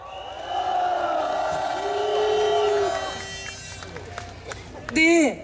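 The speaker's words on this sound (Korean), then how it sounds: "힘찬 함성으로 모시겠습니다" A large outdoor candlelight protest crowd at a rally in Seoul cheers and whoops, a broad roar rising and fading, with a voice on a loudspeaker over it and a sharp shout near the end.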